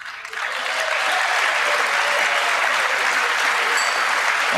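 Audience applause at a televised political speech, a loud, sustained wall of clapping from a large crowd that swells quickly in the first moments and then holds steady throughout.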